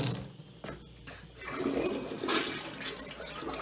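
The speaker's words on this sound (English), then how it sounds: "Toilet flush is fine." A household toilet flushes nearby, a steady rushing swirl of water that builds and continues through the moment.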